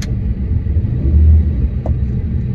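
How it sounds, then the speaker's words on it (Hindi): A car engine idles on petrol, a steady low rumble with a slight swell in the middle, close and smooth under an enclosed cabin hum. "अब ये अगर मैं पेट्रोल पे कर दूं ना गाड़ी"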